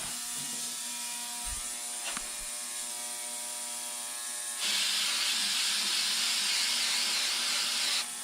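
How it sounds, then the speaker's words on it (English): REM Oil gun lubricant sprayed onto a cleaned pistol part, a steady close hiss of aerosol spray running for several seconds, preceded by faint clicks and handling of a Smith & Wesson or Springfield XD part. "Gonna hit it with some REM oil."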